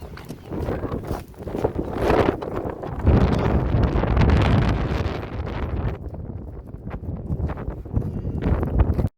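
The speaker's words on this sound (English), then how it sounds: "A little windy" Gusty wind buffets the microphone outdoors in the desert around Fort Davis, Texas, with rain about, a loud rough roar that surges and eases in waves throughout.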